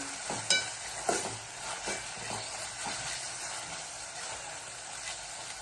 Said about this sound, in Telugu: ఇలా ఒక స్పూన్కి అల్లం అయితే వేసుకొని అల్లం పచ్చివాసన పోయేంత వరకు మంచిగా ఫ్రై అవ్వనివ్వాలి.